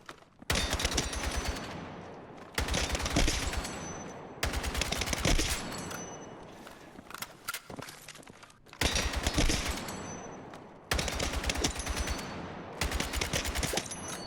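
Rifle fire in the video game Battlefield 6: several long, loud bursts of rapid automatic shots separated by short pauses, heard alone with no talk.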